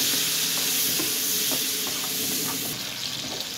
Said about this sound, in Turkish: En son çeri domates ekliyorum canlar.